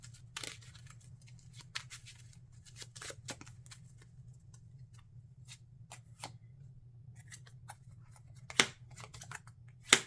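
A deck of cards for the Marvel Champions card game is shuffled by hand close up, with quick crisp riffling bursts and sharp snaps scattered over a quiet low hum, no talking.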